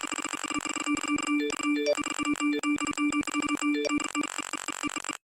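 Repeated phone notification chimes from an Instagram reel, a dense, nonstop stream of bright electronic pings and ringtone tones overlapping one another for several seconds, then cutting off abruptly.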